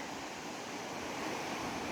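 A constant broadband rush of falling water at Deraba Waterfall in Yahyalı, Kayseri, Turkey, steady and fairly distant, with no voices.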